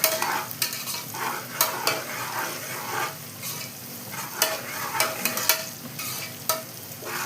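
Whole green chillies sautéing in oil in a pan for a Kongunadu-style white mutton biryani: a steady close sizzle broken by repeated sharp scrapes and taps of a stirring spoon, with no voices.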